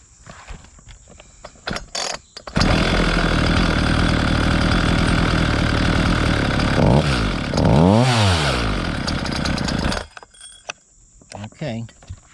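A Homelite chainsaw engine runs loud and close while its carburetor screws are adjusted, revving up and dipping in pitch several times before shutting off, with clicks and handling noises around it.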